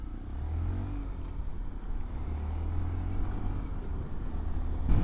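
A 2023 Honda Monkey motorcycle being ridden, its small engine giving a steady low drone mixed with rushing wind noise, loud and continuous throughout with a slight swell near the end.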